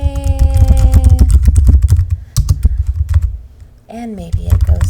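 Rapid clicks of typing on a computer keyboard, a loud, irregular run of sharp taps over a low hum, briefly joined by a short tonal electronic sound near the end.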